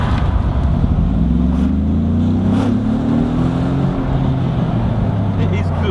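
Exhaust note of a Mercedes-AMG G-Wagon, a 2.5-ton SUV, under acceleration: a loud, steady low engine drone with rising tones, heard close and continuous alongside road noise.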